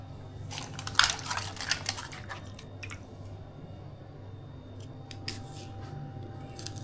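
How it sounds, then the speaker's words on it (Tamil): An onion is sliced with a knife for chicken fry. A quick burst of crisp, close cuts comes near the start, then sparser faint cuts over a low background hum. "சிக்கன் வறுவலுக்கு வந்து வெங்காயம் கட் பண்ணிகிட்டு இருக்கிறேன்"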